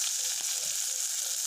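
Green chillies and onion hit a hot pan where eggs were just fried, producing a loud, continuous bright sizzle with no voices and a faint stir or two.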